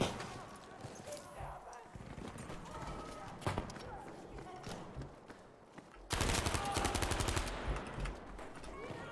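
Rapid bursts of gunfire crackle through a video game team deathmatch on the Aerodrome map, scattered shots early, then a loud sustained automatic volley near the end, with a voice speaking between.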